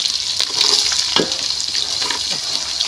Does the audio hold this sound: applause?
no